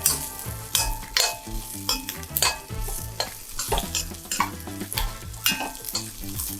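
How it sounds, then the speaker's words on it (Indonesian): Eggplant sizzles in a pan as a spatula stirs and scrapes through it, giving repeated clattering strokes over steady frying hiss, with rhythmic music playing underneath. "Nah, ini kita masukin terongnya."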